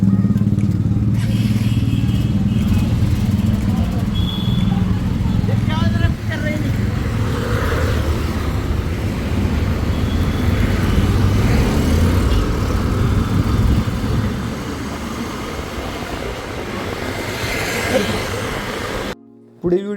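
A Honda motorcycle pulls away from a showroom in Latur after a service, its engine a steady close rumble with traffic noise, ending in a brief cut near the end.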